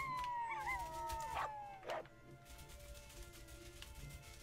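A wolf in the video game Everything gives wavering, pitched howls that rise and fall over several seconds, mid-loud over a steady background hum, with no talking.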